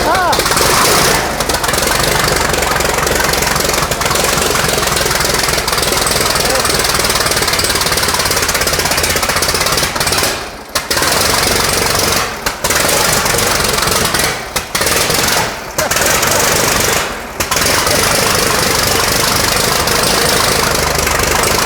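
A restored 1917 American LaFrance fire engine with twin ignition cranks over and runs with a loud, rough, steady clatter that carries on through the whole stretch, dipping briefly a few times, while people talk over it.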